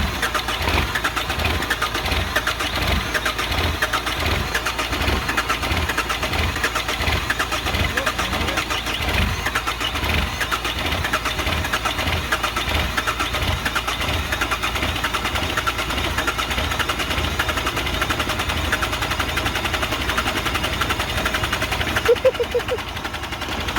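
A hot-wired Peugeot car engine is running at a steady, close, loud chugging idle with a regular pulsing beat that continues unbroken for over twenty seconds.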